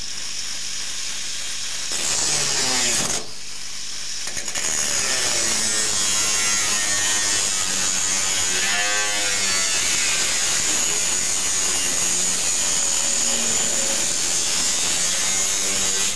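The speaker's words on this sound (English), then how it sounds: "we're going to cut it off here, just where it can't be seen at that joint" Power tool cutting rotten metal from a car body: a loud, sustained high-pitched grinding whine with a brief break early on, then running steadily, close up and without talking.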